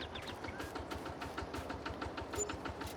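A micro tractor engine in the Farming Simulator 22 video game runs steadily with a low, pulsing mid-range drone and a rhythmic chug. It sits alone at moderate loudness, with no talk over it.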